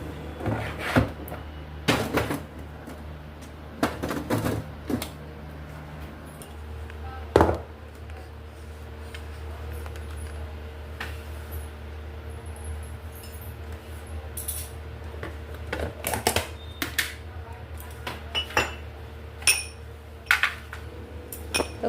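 A plastic lid of a chocolate ice cream container is pressed and snapped back on with a series of close, sharp clicks and knocks, irregular and spaced out over a quiet kitchen hum.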